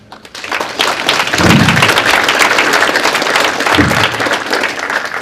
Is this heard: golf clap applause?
yes